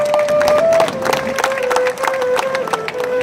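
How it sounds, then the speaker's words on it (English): Crowd clapping and cheering at a tourism event in Singapore, a dense, lively burst of applause close by with a sustained tone ringing through it. "Let's give him a round of applause."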